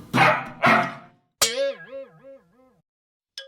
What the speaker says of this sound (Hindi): पिंकी का पिल्ला।